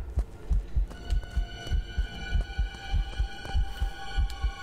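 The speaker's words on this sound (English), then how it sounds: "I think that's our heart beating" Steady thudding heartbeat from the horror video game Incubo, a regular double-pulse rhythm throbbing over a faint background hum, close and clear with no talk.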